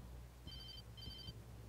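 A telephone rings in the video game Alan Wake: two short, faint electronic ring bursts spaced evenly apart, distant and thin over a rumbling low ambient backdrop.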